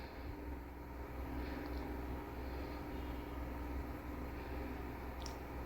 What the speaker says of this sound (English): Now let me start sewing